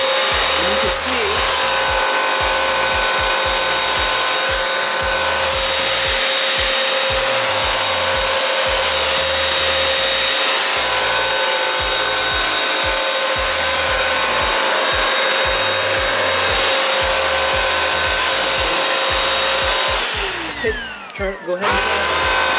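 A Bissell CrossWave wet floor cleaner runs with a loud, steady motor whine and hum close by for over twenty seconds, with a faint voice speaking under it, and the motor winds down at the end.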